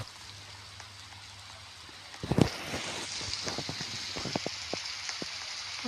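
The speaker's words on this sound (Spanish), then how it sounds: "Están lloviendo acá. Están lloviendo." Video game rain in a Roblox forest survival game, a soft steady patter under faint background hiss, with scattered louder drops and crackles beginning partway through; no talk.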